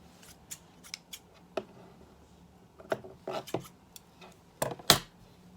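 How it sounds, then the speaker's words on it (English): Scissors snip away the frayed edge of a knitted jumper's fabric, a series of sharp, close cutting clicks at irregular intervals, with a few quick clusters and the loudest snip near the end. "I just want to trim down some of the excess frayed edge"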